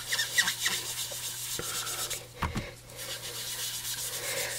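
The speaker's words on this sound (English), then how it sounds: "grab some sugar plum here, and it's just a little bit darker, more on the lavender side, so I'm just going to rub some of that in" Ink pad of sugar plum lavender ink rubbed onto paper for a bokeh stamp design, a soft continuous scrubbing with a louder brief scrape midway, close and steady with no talking.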